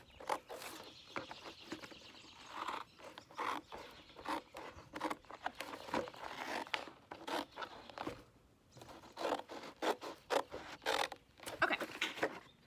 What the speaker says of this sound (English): And now I'm gonna cut this straight up.